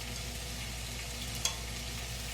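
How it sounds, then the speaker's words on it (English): Okra fries in a pan, giving a steady, even sizzle that runs throughout, with one brief sharp click near the middle. "You can see it frying up so pretty."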